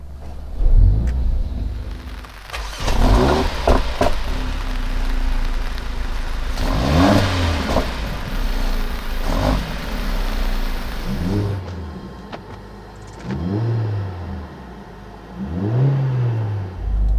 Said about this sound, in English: But we will start in the Sport Plus. Let's listen to the sound. I will hold the downshift for the emotion start.